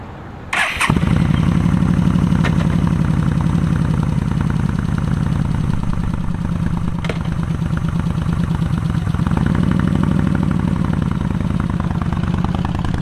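A motorcycle engine fires up abruptly after a brief quiet moment, then settles into a loud, steady, close-up idle with an even rumble that carries on to the end.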